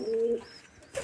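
Collected pigeons give a short, soft coo, a low hooting note that holds briefly, followed by faint chirpy sounds. It is fairly quiet and close.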